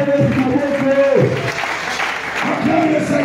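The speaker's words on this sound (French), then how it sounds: "Aujourd'hui, je ne suis pas content de tes acclamations." A church congregation applauding and cheering in a loud burst, with a voice speaking over the clapping and a short lull before the applause picks up again.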